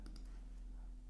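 A computer mouse gives a few sharp, close clicks: a quick pair at the start and one more near the end, over a faint steady hum with no talk.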